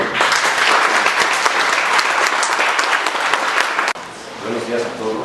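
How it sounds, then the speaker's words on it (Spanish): Loud, dense applause from a congress audience welcoming a speaker, sustained for several seconds before cutting off abruptly, with a voice then speaking over quieter room sound. "Recibámoslo con un fuerte aplauso."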